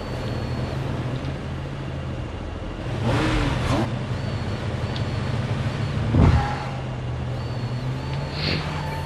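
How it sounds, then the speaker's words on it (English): Car engines idle and rev in a steady low drone, with two louder surges building and fading midway and a sharp nearby burst around the sixth second. "we can just sit here listening to our engines rev up for a couple minutes"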